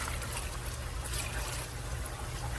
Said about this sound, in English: I just pour a little bit of apple cider in here